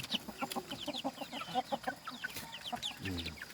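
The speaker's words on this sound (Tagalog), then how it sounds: "Tingnan nyo mga idol yung sisiw sa loob" Chicks cheeping in a dark backyard coop, a busy stream of high, thin peeps repeating close by, with a few lower clucks from adult fowl mixed in and no talk.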